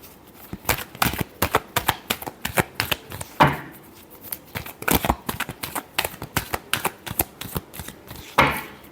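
Tarot cards shuffled by hand in quick, repeated riffling bursts, each a crisp close flutter, with a couple of sharper snaps where the deck is squared, no voices.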